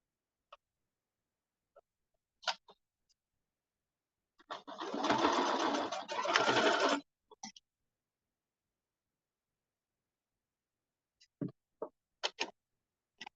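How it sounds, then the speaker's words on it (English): A sewing machine stitches a bomber jacket in one close burst of about two and a half seconds, surrounded by quiet stretches with scattered small clicks and handling taps. "Make sure I'm not unthreading my sewing machine again."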